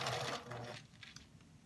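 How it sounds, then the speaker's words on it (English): A sewing machine stitching two quilt pieces together, heard as a short steady mechanical whir that runs for under a second and then stops, leaving faint room noise. "now I'm gonna sew these two together"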